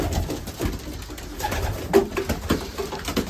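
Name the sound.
racing pigeons cooing in the loft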